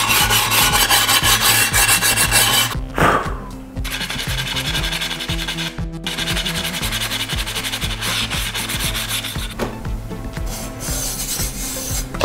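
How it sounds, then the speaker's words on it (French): A small sanding block rasps back and forth along a tile edge in steady, rhythmic strokes, close and loud, with brief pauses between passes. "vous pouvez prendre une petite cale à poncer"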